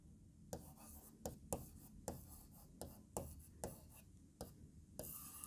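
Pen strokes on paper as a Sanskrit answer is written out by hand, soft close scratches in short uneven strokes over a faint room hiss, with no talking.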